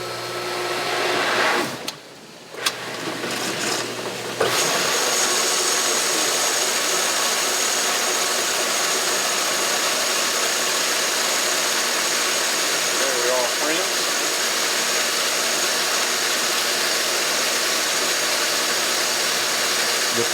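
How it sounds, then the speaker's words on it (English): A Sta-Rite hot tub spa pump, freshly repaired with a new 201 seal, starts up after a few seconds of lighter, uneven noise. It then settles into a loud, steady, broadband whir that runs on unchanged. "I'm going to fire this pump up. I'm going to turn this tub on"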